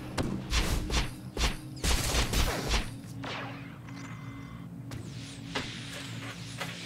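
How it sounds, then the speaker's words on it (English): Enemy blaster fire in Star Wars: The Old Republic, a series of sharp, snapping shots in quick succession, loud at first and then sparser, over a low game hum and a brief electronic tone. "Oh, watch out. It's shooting."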